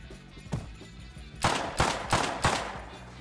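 Gunfire in the survival video game Rust: a soft early shot followed by four loud, sharp gunshots spaced about a third of a second apart, close and alone with no talk.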